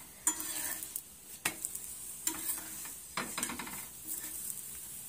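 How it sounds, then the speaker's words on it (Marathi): Masala paratha frying in an oiled pan while its second side cooks: a steady close sizzling hiss broken by sharp scraping and tapping clicks of a spatula against the pan, with no talking. "आता दुसऱ्या साईडने भाजत येत आहे. आपण आता ह्यावर तेल लावून घेऊ."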